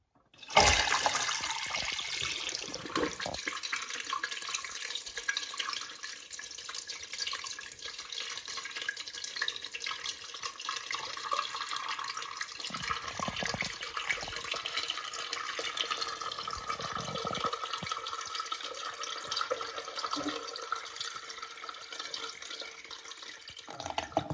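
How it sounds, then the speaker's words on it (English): A household toilet flushes with a sudden loud rush, then the tank refills with a long steady hiss and trickle of running water, fairly close, with no talking. "And you can see that there's still water remaining, but that was one flush."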